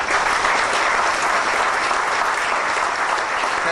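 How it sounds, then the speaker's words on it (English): Steady, loud applause from a crowd at a Veterans Day gala, sustained clapping that fills the whole stretch without pause. "So I would give them a round of applause real quick."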